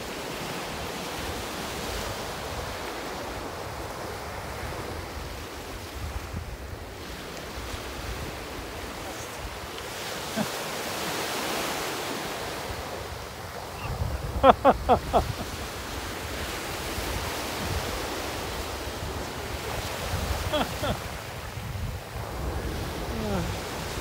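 Atlantic Ocean surf washes onto the Gaspésie shore in a broad, continuous roar with wind buffeting the microphone; brief voices cut in midway.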